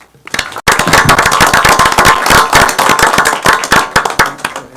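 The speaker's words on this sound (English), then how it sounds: "Give them a round of applause." Loud, close applause for supermarket employees at a parish council meeting, many sharp individual claps forming a brisk, continuous round after a short silent lead-in.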